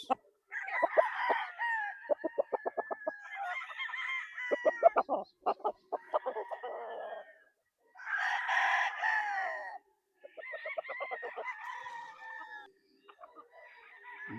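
Sweater claret cross gamecock roosters crowing repeatedly at a game farm, several long crows spaced across the clip with clucking and rapid pulsed calls between them, close and clear.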